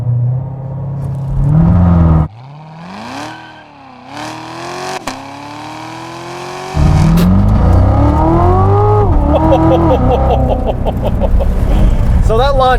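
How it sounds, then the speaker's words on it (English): A 2019 Chevrolet Corvette Z06 launching without launch control, its engine revving hard with rising and falling pitch, then a loud sustained roar of acceleration with wheel spin, heard from inside the car. "2019 Chevrolet Corvette Z06 without official launch control."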